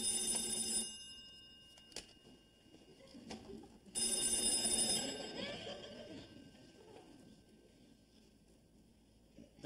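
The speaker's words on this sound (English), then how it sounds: "That's the phone." An old-fashioned telephone bell rings in an office boardroom, two loud bursts of shrill ringing separated by a pause, with faint room sounds between.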